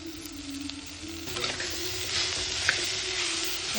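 Onions and wild leafy greens (ran bhaji) sizzle steadily in a pan, a constant close hiss that swells slightly partway through as the greens go in, with no voices.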